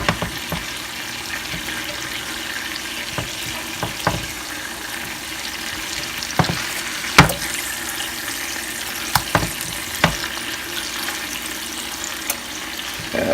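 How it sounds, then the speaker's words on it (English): Burger patties sizzle and fry in a pan, a continuous crackling hiss with scattered sharp pops and a few clanks of a spatula as the patties are flipped; no talking. "when you flip burgers, you want to flip away from you so that the grease doesn't splatter"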